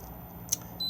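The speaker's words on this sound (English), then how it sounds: "If you prefer button beeps on or off," Button beeps from the control panel inside an Adria 613 UT Thames caravan: a faint, brief blip near the middle, then a steady, slightly louder tone toward the end over quiet room hiss.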